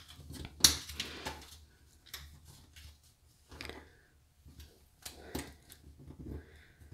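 A paper money bill being folded into origami booties, with crisp crinkling and creasing snaps in short irregular bursts, close and fairly quiet.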